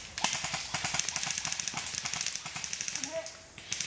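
Airsoft guns fire during an outdoor airsoft game, a rapid stream of sharp snapping shots at moderate distance, with voices talking at times over the shooting.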